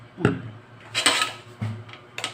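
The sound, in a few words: mixing pork lumpia filling in a bowl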